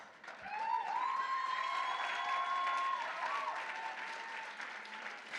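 An audience at a cosplay contest at Japan Impact 2025 applauds steadily for a few seconds, a dense wash of clapping with a faint tonal hum over it, fading slightly at the end.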